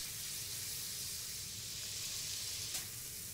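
Chopped garlic and half an onion frying in oil in a saucepan give off a steady, even sizzle that stays close and constant throughout, with a faint clink near the end.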